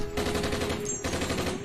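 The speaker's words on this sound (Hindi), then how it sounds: "कल सरहद पे गोली चली" Continuous rapid gunfire, dense and loud, a steady automatic rattle with a brief dip partway through.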